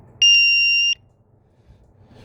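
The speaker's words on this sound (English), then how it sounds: "So you hear a beep." A single steady electronic beep from an electrical tester on a 1970 Chevy Nova's wiring, high and piercing, lasting under a second, followed by quiet background hum.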